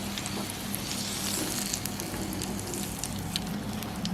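Cuttlefish pieces deep-frying in hot oil, a dense, close, continuous sizzle with crackling spatter throughout and no voices.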